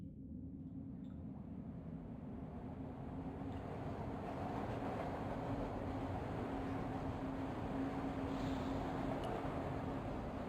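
A steady, low rumble of a train carries on throughout a scene in the Broken Sword II game, a continuous mechanical drone with a faint hum and no distinct events.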